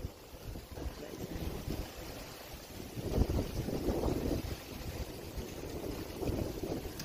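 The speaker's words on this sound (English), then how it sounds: "Very windy, you guys hear." Wind blows steadily across the microphone in a constant rushing roar with low buffeting that swells in the middle and again near the end.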